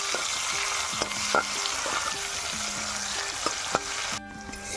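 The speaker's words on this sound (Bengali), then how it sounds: "এরপর দিয়ে দেবো পেঁয়াজ" Continuous sizzling of onions frying in a wok, with occasional scraping stirs and clinks from a utensil; no voices.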